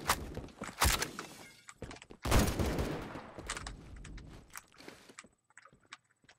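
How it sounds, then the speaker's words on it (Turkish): Rifle gunfire in the Roblox game Phantom Forces: several sharp bursts and scattered single shots with quieter thuds between, loud at first and then tapering into faint sporadic pops. "bu tabancanın tüfeğin mermisi çabuk atıyor"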